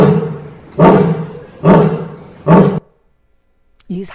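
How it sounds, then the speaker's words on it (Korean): A recorded lion roars in three deep, rough bursts at a steady rhythm, each about a second long and loud, followed by silence and a short voice at the end. "이게 사자 소리입니다."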